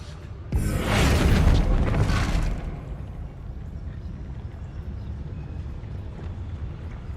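A Bombarda blasting spell explodes in a Harry Potter video game set at Hogwarts, a loud, broad boom that erupts suddenly, roars for about two seconds, then fades into a low rumbling background.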